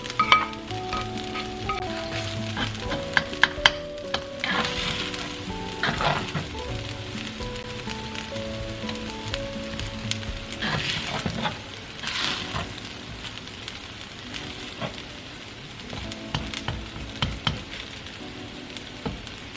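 Scrambled eggs for beef fried rice sizzle and crackle steadily in a hot pan, with occasional scrapes and knocks of a utensil stirring them, a continuous close frying hiss with no voices.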